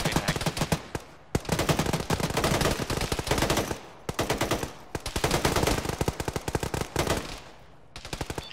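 Sustained bursts of automatic gunfire in a ShackTac firefight in Arma, loud and close, rattling in long volleys separated by brief pauses.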